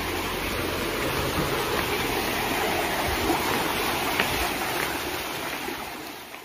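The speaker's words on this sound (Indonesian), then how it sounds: "Nah, ini adalah kali tempur, pertemuan dua sungai ya." Rushing water at the confluence of two rivers in a forest near a spring, making a dense, steady broadband roar that stays loud and even throughout without voices.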